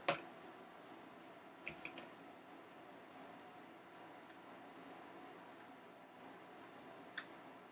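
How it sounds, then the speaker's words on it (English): Pen or pencil sketching over dried cerulean blue and copper paint, a soft continuous scratching and rubbing with a few light taps, quiet and close with no talking. "we'll do some sketching on it"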